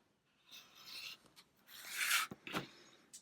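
Scissors or a blade cutting squares of quilting fabric, a few soft rasping strokes close up, quiet with short gaps between cuts and no talk.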